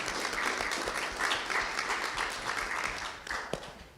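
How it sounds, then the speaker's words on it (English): Audience applause for volunteer mentors at a community AGM meeting, steady dense clapping from a room of people that holds for about three seconds then thins and fades toward the end. "Please give a round of applause for everyone that gave their time and talents this weekend"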